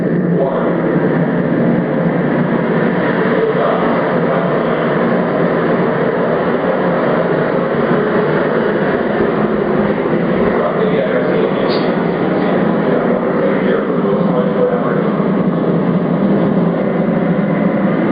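Rocket launch right after a countdown, a loud sustained broadband roar that holds steady for the full stretch, dense low rumble with a hiss on top and no break.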